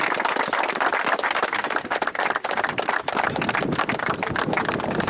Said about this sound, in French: bien applaudir à Jean-Louis